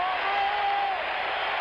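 Crowd noise in a basketball arena during the 1977 NBA Finals Game 6 between the 76ers and Trail Blazers, a dense, steady roar of cheering filling the space with no distinct voices.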